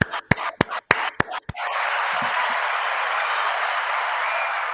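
A burst of applause for a first-time commenter on a live Cowboys football stream, starting with a few sharp separate claps and swelling into steady, dense clapping that carries on to the end.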